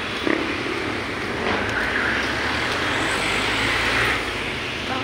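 Steady road traffic rumbles along a busy Manila city street on a Monday, with continuous car and engine noise close by and no talking.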